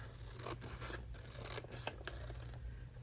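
Scissors trimming printed photos of garden flowers for a journal page, a series of quick crisp snips and paper cuts close up, alone over a low steady hum.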